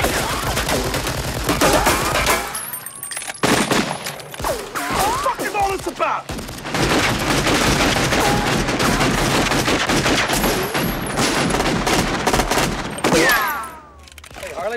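Shotgun blasts and heavy gunfire crack through a robbery shootout in a 1991 action film, with repeated loud bursts and dense volleys dominating nearly throughout, separated by a couple of brief lulls.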